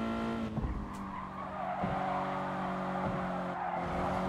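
Car sliding through a corner in the racing game Gran Turismo Sport, with a steady engine drone under a sustained tyre squeal and skid that carries on for several seconds.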